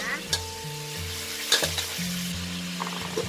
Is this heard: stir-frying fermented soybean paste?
yes